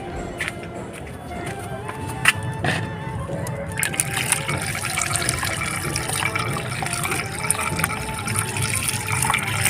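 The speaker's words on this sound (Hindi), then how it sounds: "चलिए इसे नल के नीचे ले चलते हैं।" Tap water runs and gushes steadily over the dense clay soil of a potted chrysanthemum, loud and close, growing fuller partway through as the flow strikes the soil and roots.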